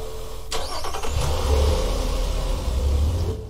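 A car engine cranks and catches, settling into a steady, close-up idle rumble with no talking over it.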